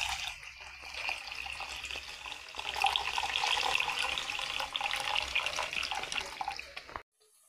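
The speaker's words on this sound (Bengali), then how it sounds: "গরম পানি তো ফেলে দিচ্ছি, দিয়ে ভালো করে ধুয়ে নেব আবার" Hot water is poured out and dishes are rinsed, a steady splashing stream that swells in the middle and then cuts off abruptly near the end, with no talking.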